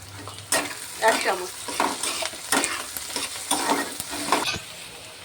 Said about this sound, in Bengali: পেঁয়াজ ভাজার মধ্যে আমি একটু চিনিটা দিয়ে দিলাম।